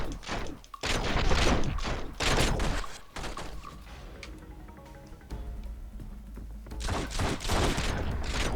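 Bursts of gunfire in The Matrix: Path of Neo, several loud volleys of shots at the start and again near the end, with a quieter stretch of game ambience in between.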